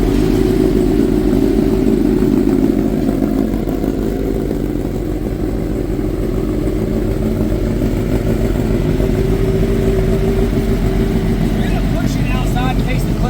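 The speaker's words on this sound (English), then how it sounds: "It sounds so much better with the Brock's Performance exhaust on there" A Hayabusa-engined mini truck with a Brock's Performance exhaust rumbles and idles steadily up close with a throaty exhaust note, holding a low, even drone throughout.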